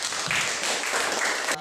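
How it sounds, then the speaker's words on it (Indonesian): A classroom audience gives brief applause for a student group that just finished presenting, a short burst of clapping mixed with voices. "kita beri tepuk tangan."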